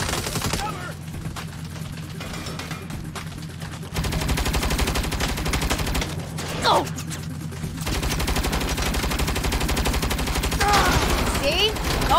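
Mounted turret gunfire in the Saints Row video game rattles in long, rapid sustained bursts with a short break between them, while characters talk over the shooting.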